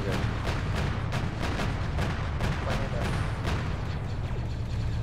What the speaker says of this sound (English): An AT rocket hit us.